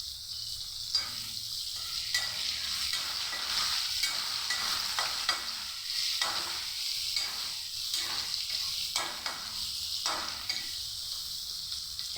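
Chopped onion and slit green chilies fry with cabbage and fish head in a pan. A steady sizzle runs throughout, with intermittent scraping and stirring strokes close by and no voices.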